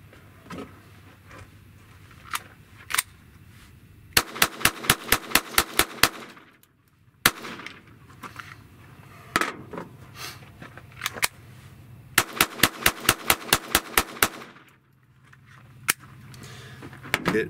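Glock G44 pistol firing 22 Mini-Mag rounds at a range, rapid strings of sharp, loud shots in two bursts of about a dozen each, with scattered single shots and quiet gaps between.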